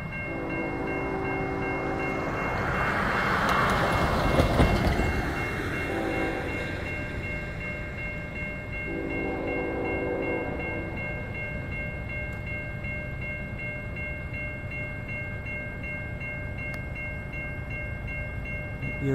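GE locomotive-led freight train passing a railroad crossing, its horn sounding in several long blasts over a steady rumble of wheels and cars, crossing bells ringing throughout, no talk.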